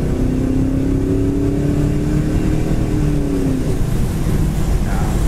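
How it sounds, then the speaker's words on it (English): Restomod 1969 Chevelle with fuel injection holds a loud, steady engine roar while smoking its tires, with a rising rev whine early on and a dense, continuous rumble throughout. "Let's sit there and smoke the tires."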